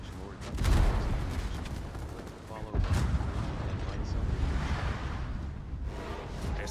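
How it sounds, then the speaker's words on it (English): Torpedo launch in the World of Warships naval game, a loud surging whoosh over rumbling battle noise and gunfire, with a second burst partway through and steady booming underneath. "Here goes the torpedo."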